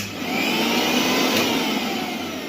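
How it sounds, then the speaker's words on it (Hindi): A mixer grinder powered from an Exide Star 12V 1650VA inverter whirs steadily and loudly with a constant high motor whine throughout, close up and with no voices. "यहाँ पे अब मैं मिक्सर ग्राइंडर को चलाता हूँ"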